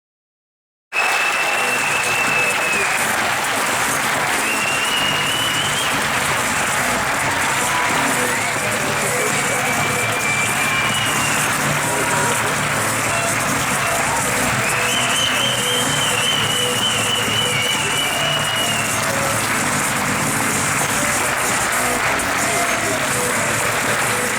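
A seated audience at a 2016 mountain bike marathon world championship ceremony breaks into long, sustained applause, dense clapping with scattered cheers and a few whistles, steady and fairly close for over twenty seconds.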